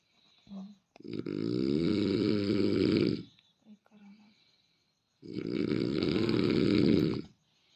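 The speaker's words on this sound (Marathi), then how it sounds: "कमी घोरा की नाक दाबीन" Loud, rasping snores in two long bursts separated by a pause, close by, with a faint breath or snort between them.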